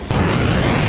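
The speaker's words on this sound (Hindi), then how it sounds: "धमाके पर धमाका।" A deep, loud explosion boom from news footage of military strikes in Pakistan-administered Kashmir, one sharp burst followed by a sustained rumbling roar filling the short stretch, no voices.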